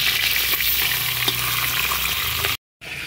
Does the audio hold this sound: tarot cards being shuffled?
no